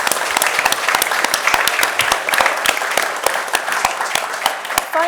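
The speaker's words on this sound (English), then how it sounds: "That's a round of applause." An audience gives a loud, dense round of applause at a political conversation event, sustained clapping for about five seconds close to the listener.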